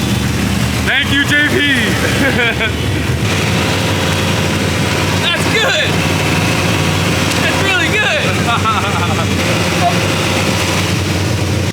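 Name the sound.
LS3 V8 engine idling in BMW E46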